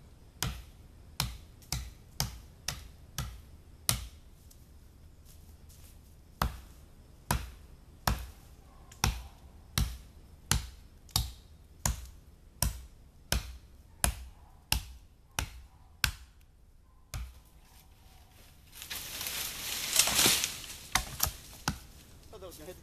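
A Bowie knife chops green wood poles in a steady series of crisp, close knocks, roughly one every half second, with a brief pause midway and a rustling scrape of handled wood near the end.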